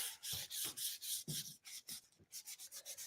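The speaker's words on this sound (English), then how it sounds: "Let's get some sandpaper so you guys can get the idea of what it's going to look like." Sandpaper rubs back and forth on a vintage shop item in a steady run of close, scratchy strokes, quieter and quicker toward the end, with no talking.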